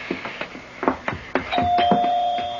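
A doorbell rings twice at a front door late at night in an old radio mystery drama, a two-tone chime whose tone lingers after scattered footsteps and knocks, fairly close and clear with no talking.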